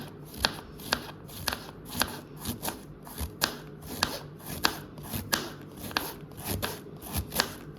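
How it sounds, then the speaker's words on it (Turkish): A knife finely chops cabbage quickly and steadily on a board, a regular rhythm of sharp close taps repeating about twice a second. "İndi ise kelamımızı hırda hırda doğruyoruz."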